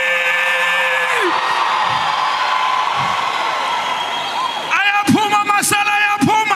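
A political rally crowd in Gauteng roars and cheers loudly and continuously, with harmonic whoops and shouts rising out of the dense crowd noise near the end.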